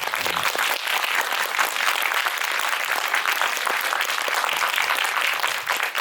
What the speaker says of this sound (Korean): 크게 박수 한번